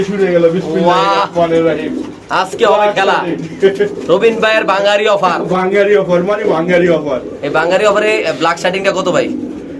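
Silver Lahori pigeons cooing at a bird market, their deep rolling coos close and loud, mixed with conversation that runs through the whole clip.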